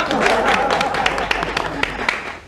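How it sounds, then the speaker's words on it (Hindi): A crowd claps in a comedy TV scene after an announcement of free houses, a steady patter of hands with voices talking over it, fairly near throughout. "तालियां।"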